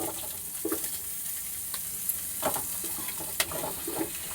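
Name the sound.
vegetables frying in white oil in a pan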